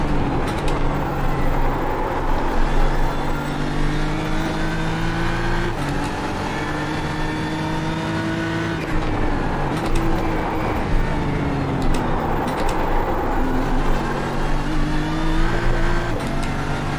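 A BMW M4 GT3 race car engine in the iRacing simulator at Imola drones continuously and loudly, its pitch climbing and dropping with repeated upshifts and downshifts, with no talk over it.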